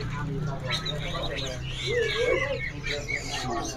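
An imported Rosella parakeet at a bird kiosk gives a few warbling, whistled calls against steady low background noise, with people talking nearby.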